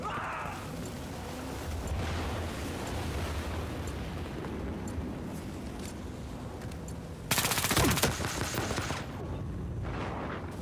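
Video game gunfire, a steady rattle of shots under a continuous noisy mix, with a sharper, louder burst of fire about two-thirds of the way through.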